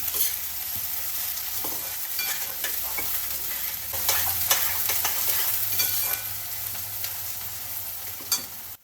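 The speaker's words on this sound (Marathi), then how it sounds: "कांदा वगैरे ॲड करायचा आहे आपल्याला आणि व्यवस्थित त्याला परतून घ्यायचा आहे" Onion sizzles loudly in hot oil in a pan while being stirred, a steady close frying hiss with scraping strokes of a spoon throughout.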